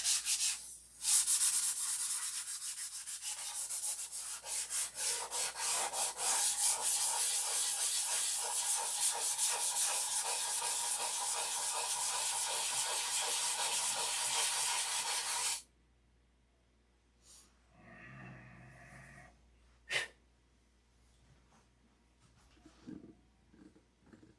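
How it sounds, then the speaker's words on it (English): Steady hand sanding over spots on a surface, a close, continuous scratchy rubbing for about fifteen seconds, then stopping; afterwards only faint shuffles and a few light knocks. "Gotta sand the spots."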